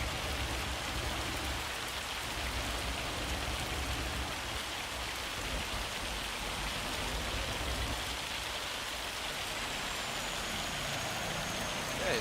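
A hailstorm pounds steadily and loudly on surfaces, a dense, unbroken hiss-and-patter of falling ice that stays constant for over ten seconds with no voices.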